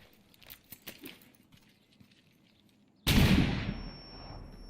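Faint scattered pops of muffled gunfire in Rainbow Six Siege give way to a sudden heavy, muffled flashbang blast that booms and decays, followed by a high ringing tone.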